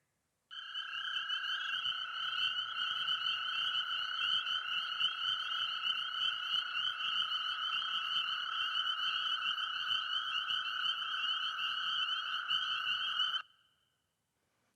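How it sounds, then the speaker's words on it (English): Chorus frogs calling in spring across the street in New Hampshire, a dense continuous chorus of rapid trilling croaks at steady volume, heard alone for over ten seconds before cutting off. "Here's the sound of the chorus frogs across the street from our house in New Hampshire"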